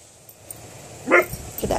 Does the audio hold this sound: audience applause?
no